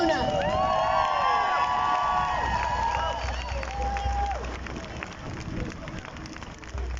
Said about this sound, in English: please give a big round of applause for Una